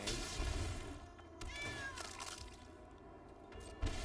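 A cat meows twice in the Magic the Gathering Arena video game, a clear drawn-out mew followed by a shorter call, heard alone over a quiet game background.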